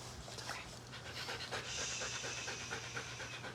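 A frightened dog hides under a table during a thunderstorm and pants, giving quick, steady, breathy puffs close to the listener, faint and continuous with soft background noise.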